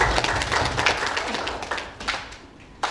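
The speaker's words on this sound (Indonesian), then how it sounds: "Kita beri tepuk tangan buat pengantin." A wedding congregation claps for the bride and groom, a dense close round of applause that thins toward the end with a final sharp clap.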